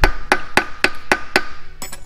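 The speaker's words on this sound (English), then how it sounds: "If you take a small ball peen hammer and tap on it to round the edges back" A small ball peen hammer taps a rounded pinion shaft bolt head seven times in a steady rhythm, sharp close metallic strikes about a quarter second apart.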